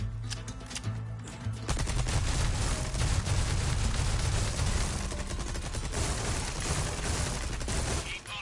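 TMP submachine gun firing in a video game, a long loud sustained automatic burst after a brief quieter start, close and continuous, cutting off at the end.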